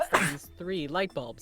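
A single short sneeze right at the start, followed immediately by a voice talking.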